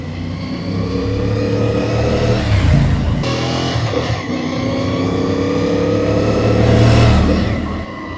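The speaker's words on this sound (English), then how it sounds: "The smoothness of this motor is unbelievable." Moto Morini Vettore 450 motorcycle engine running on the road, a smooth loud drone that rises and falls through gear changes as the bike accelerates, with no talk over it.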